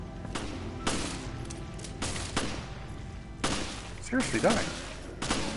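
Repeated gunfire bursts from the video game Resident Evil Revelations, with several loud shots spread across the clip while someone talks over them.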